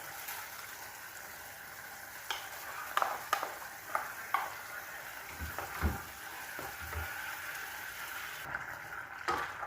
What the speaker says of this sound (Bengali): সেদ্ধ হয়ে গেছে আলু। বাটা পোস্তটা মিশিয়ে দেব।